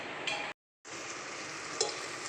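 Sliced onions sautéing in a pressure cooker for Thalassery-style dum biryani give a steady close sizzle with stirring scrapes, broken by a brief silent gap, then continuing.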